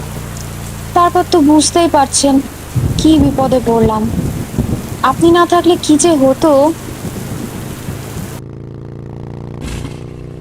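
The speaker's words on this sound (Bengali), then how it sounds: "বৃষ্টি শুরু হয়ে গেল" Steady rain falls as a constant hiss behind someone speaking, the wash of rain running under his voice before cutting off abruptly near the end.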